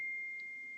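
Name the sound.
phone notification beep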